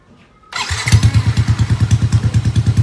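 Yamaha VMAX motorcycle with a new aftermarket exhaust pipe, dB killer removed, fires up and settles into a loud, deep, lumpy rhythm of throbbing exhaust pulses, close by with no talk.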